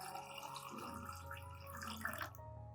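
Clean room-temperature water pours steadily into a turmeric solution to dilute it, a continuous close splashing rush that runs for nearly three seconds before cutting off abruptly.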